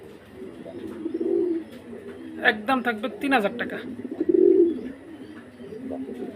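Pigeons kept for sale coo softly in short throaty bursts while someone talks over them close by, with a few brief flutters and chirps mixed in.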